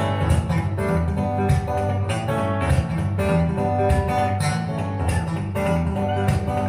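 Acoustic guitar groove played live in a Nashville venue, dense strummed chords with quick percussive ghost-note taps from hammer-ons and pull-offs filling gaps between the main beats, steady and close with no talking.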